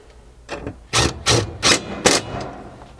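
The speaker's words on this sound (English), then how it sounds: "tighten those two mounting bolts with our 10mm socket" A 10mm socket tightens two mounting bolts on a modular drawer floor system in a 5th Gen Toyota 4Runner, giving four short, sharp ratcheting bursts close by with brief pauses between them.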